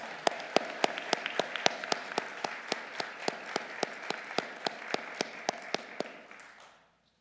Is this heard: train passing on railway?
no